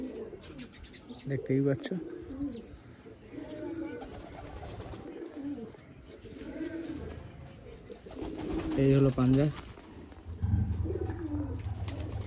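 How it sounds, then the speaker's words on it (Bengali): Male Napta pigeon cooing in short bursts while being handled, its soft throaty coos coming every few seconds beneath someone talking close by. "এটা নর পায়রাটা"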